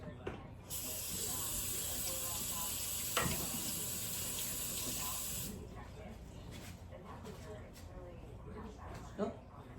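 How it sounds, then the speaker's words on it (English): A kitchen tap runs in a steady hiss as hands are washed beneath it during freezer meal prep, then the water cuts off and quiet handling noises remain. "I'm gonna wash my hands"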